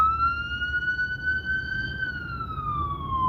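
An emergency vehicle siren wails down the street, one clear tone slowly rising and then falling, moderately distant over a low traffic rumble.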